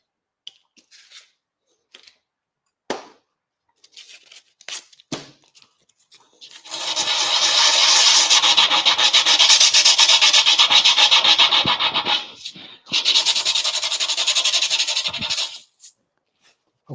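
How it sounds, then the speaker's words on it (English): Hand sanding with sandpaper on a workpiece: after a few scattered taps, two long bursts of close, loud, rhythmic rasping strokes, with no talk. "How do you hold paper in your hand when you're doing sanding like that?"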